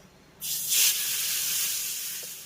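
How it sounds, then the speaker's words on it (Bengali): Hot oil tempering with dried chillies hits chutney with a sudden loud hiss that swells then settles into a sustained sizzle, close up. "এবার আমি তরকা ফোড়নটাকে চাটনির ভিতরে ঢেলে দেবো"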